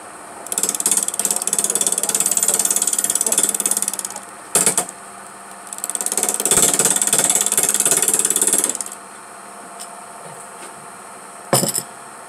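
Wood lathe turning a mushroom cap for a salt and pepper shaker: loud, dense rattling tool-on-wood chatter in two long bursts with a pause between, then a few short sharp knocks.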